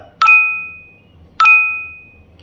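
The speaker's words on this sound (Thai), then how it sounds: "ต่อมากระดิ่งนะครับ" Shopee app bell notification sound, two identical bright bell dings about a second apart, each sharp strike ringing out and fading slowly, clear and alone over faint room noise.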